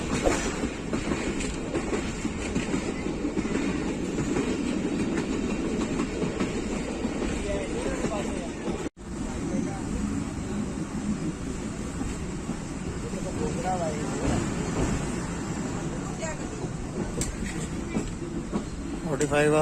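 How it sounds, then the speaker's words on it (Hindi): Pakistan Express train running toward Jhelum on Pakistan Railways, a steady loud rumble of rolling wagons with wheel clatter throughout, briefly cut off near the middle. "पाकिस्तान एक्सप्रेस झेलम पहुंच रही है।"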